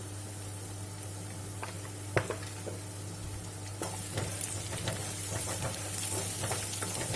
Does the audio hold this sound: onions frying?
yes